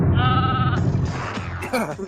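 A goat bleats in one long, wavering, nasal call, loud and close, with no talk over it.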